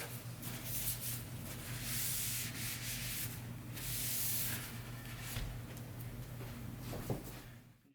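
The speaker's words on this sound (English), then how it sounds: "We'll go ahead and give that a quick wipe with our paper towel. Get all that oil off." Paper towel rubbing and wiping a freshly oiled wooden sword, a steady close-up scrubbing with brief pauses and a few light knocks near the end.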